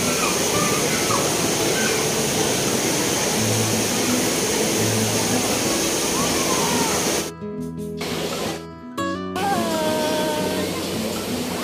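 A steady, loud roar of falling water at a waterfall near Tanay, Rizal, continues throughout with no break, while people talk over it at close range.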